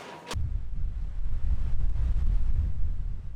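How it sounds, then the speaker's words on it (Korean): Strong wind buffeting the microphone at an Antarctic research base by a rough sea, a loud continuous low rumble and roar after a short sharp onset, no voices. "강한 바람이 또다시 기지를 찾아왔는데요"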